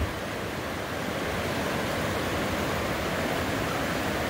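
The Dungeness River runs high and fast, giving a constant, loud, broadband rush of water with no letup and no voices.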